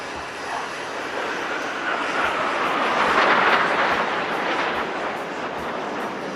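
Fighter jets flying in Victory formation at the Aero India 2025 air show in Bangalore, a distant broad jet roar that swells to a peak midway and then eases off, heard without talk.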